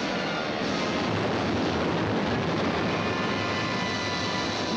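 Dense, continuous roar of WWII aircraft engines during a strafing run on the Eastern Front, loud and unbroken, with a broadband rumble filling the scene and no voices.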